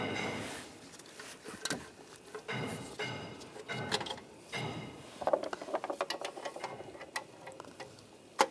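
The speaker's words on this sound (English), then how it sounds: "use a E10 socket, take these bolts out" Ratchet with an E10 socket loosening heat shield bolts on a 2014-2022 Chevrolet Trax, a close series of sharp clicking bursts in irregular runs, quickening toward the end.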